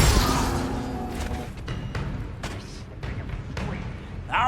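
Bombarda blasting spell from Hogwarts Legacy going off in a running magic fight: several booming thuds and crackling bursts land in quick succession over a dense rumbling battle bed, with a brief sharp swirl near the end.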